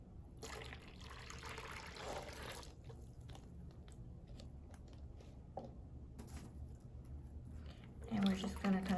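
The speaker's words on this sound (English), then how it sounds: "I'm gonna pour our lemon juice" Lemon juice poured into a pitcher outdoors for a summertime drink, a steady liquid trickle and splash running through most of the stretch, fairly quiet, with a louder burst near the end.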